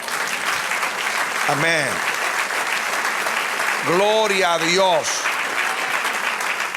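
A church congregation applauds steadily throughout, a dense wash of clapping while a preacher's voice calls out briefly over it.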